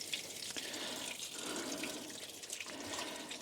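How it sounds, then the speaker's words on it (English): Water draining from the motor drain plug of a Nautique boat with a ZR4 engine during winterizing, a steady close trickle and splash with faint irregular gurgles, unbroken and without speech. "So we're going to take that one off, and we should get some more water out of here."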